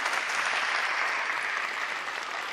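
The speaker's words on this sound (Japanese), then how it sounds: "大きな拍手をお願いいたします" Thick, steady audience applause for guest speakers at a public lecture on hot-spring bathing and athlete recovery, a full room clapping continuously at an even level.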